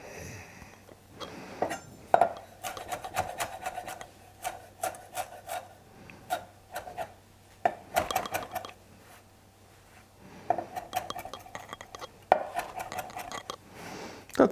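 A knife cuts lettuce into fine shreds on a board, producing bursts of quick, rasping strokes with short pauses between them, close but fairly quiet with no talk.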